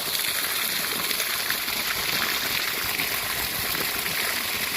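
Water gushes steadily from a solar-powered borehole pump, a continuous loud rushing wash with no pauses.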